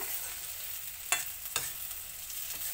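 Ivy gourd (dondakay) fry stirred in a pan, a steady soft sizzle with two or three sharp scraping clinks of the spoon against the pan, no talk.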